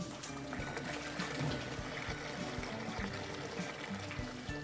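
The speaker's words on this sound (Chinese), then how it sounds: "接着我们第三次给它过滤啊，要确保这些小绒毛和杂质啊给它过滤掉" Autumn pear and loquat syrup is strained through a filter, a steady faint pour and trickle of liquid running continuously with occasional low knocks.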